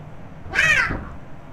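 A single synthetic meow notification alert, a short rising-falling electronic cat cry, sounds once over faint background hum.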